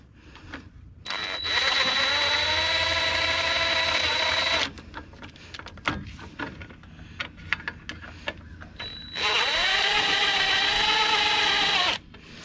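An impact gun tightens bolts on a Kenworth truck in two long whirring bursts, each several seconds, with loud mechanical noise in between. Both bursts are close and loud.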